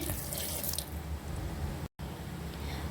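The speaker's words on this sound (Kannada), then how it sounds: "ಫಸ್ಟ್ ನಾನು ಒಂದು ಅರ್ಧ ಲೋಟದಷ್ಟು ನೀರು ಹಾಕೊತಾ ಇದ್ದೀನಿ." About half a glass of water is poured onto roasted spices ready for grinding, a steady close splashing pour that runs nearly throughout, with a brief gap partway.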